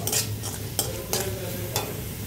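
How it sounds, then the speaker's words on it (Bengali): Noodles tossed with chaat masala are stirred in a pan: four or five distinct scraping strokes rise over a constant sizzle, close and fairly loud, with no talking. "নেড়ে নেব"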